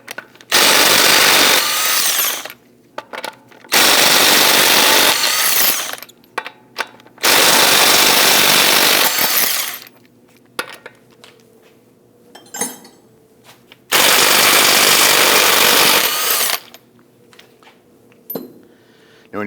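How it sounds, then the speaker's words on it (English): A power tool with a 19mm socket spins off the lug nuts on the front wheel of a 2001-2009 Volvo S60, four loud bursts of about two seconds each, separated by quiet gaps with small metallic clinks. "Using a 19mm socket, we're going to loosen and remove the lug studs."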